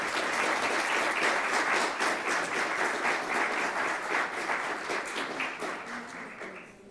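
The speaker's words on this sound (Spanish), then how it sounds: "Un fuerte aplauso también, por favor." Strong audience applause at an academic conference lecture, dense rhythmic clapping from a full room sustained for several seconds, then fading away toward the end.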